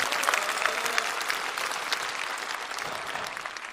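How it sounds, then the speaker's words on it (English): Sustained audience applause at a business conference, steady dense clapping for nearly four seconds with no talk over it. "Give all of them a big round of applause."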